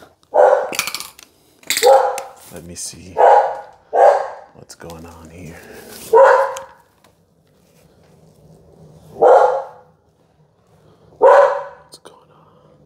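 Dogs bark in short bursts between stretches of nearby talk, with a few separate barks standing out in the quieter second half, during a defensive close-quarters home scenario.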